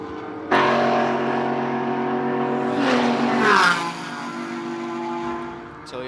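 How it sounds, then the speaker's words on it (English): Toyota Supra and Porsche GT4 race cars scream down the long back straightaway at Circuit of the Americas, the engine note rising loud as they pass close, then fading, with race commentary over the noise. "Toyota versus Porsche in this long drag strip of a back straightaway."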